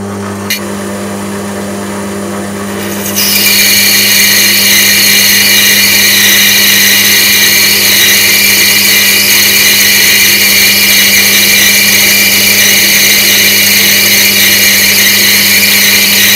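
A metal lathe turns aluminium and brass stock for a spinning top, with a steady motor hum joined by a brighter, sustained cutting whine once the tool engages, loud and close with no talk.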